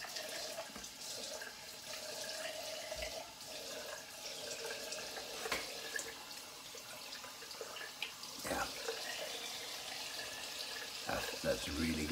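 A tap runs steadily for a quick razor rinse in a bathroom sink, a faint continuous hiss with a few brief clanks, heard alone without talk.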